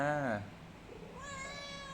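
A cat meows twice close by, a short bright meow followed after a pause by a longer, rising one, with quiet room sound in between.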